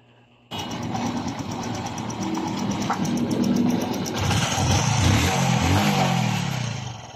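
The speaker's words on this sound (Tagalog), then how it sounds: "Balik brand new na tunog ng kanyang makina." A Honda RS 125 fi motorcycle engine, just reassembled after repair for piston slap, starts and runs with a steady, fairly loud mechanical drone and some clatter, swelling slightly as it revs.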